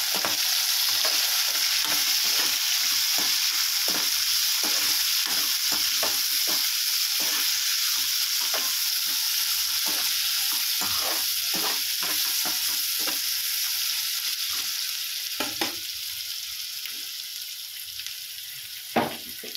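Food fries in a pan while a utensil stirs it. A steady sizzle runs throughout, with repeated scraping strokes landing at an irregular pace, heard close up and without voices.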